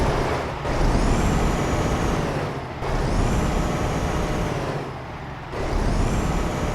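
A Volvo 670 truck engine in American Truck Simulator revs up three times, each loud swell holding steady and then falling away, with a high whining tone riding over the deep engine roar.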